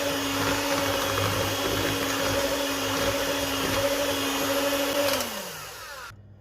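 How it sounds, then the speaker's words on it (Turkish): An electric mixer whisking spinach cake batter, a steady loud motorized whir with a constant hum that winds down in pitch near the end before falling silent. "böyle çırpıyoruz"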